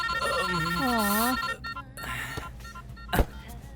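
A mobile phone plays a melodic ringtone loudly for about a second and a half, then stops, followed by faint movement and a sharp click.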